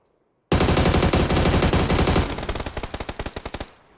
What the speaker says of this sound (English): I'm just shooting the crap out of that.